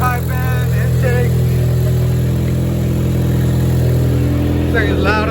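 A 2015-2019 Ford Mustang EcoBoost with a new intake, intercooler and stage 3 downpipe runs loud and steady, a deep engine drone held near and constant, with voices talking over it throughout.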